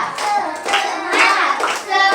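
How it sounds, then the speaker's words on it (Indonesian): A class of fourth-grade children claps a patterned cheer in an elementary classroom, delivering short, lively bursts of hand claps in rhythmic groups, close and loud, mixed with young voices chanting along. "Tepuk semangat cowboy."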